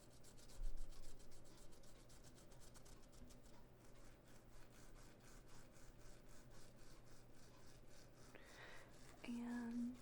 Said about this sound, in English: let me just rub it in a little bit.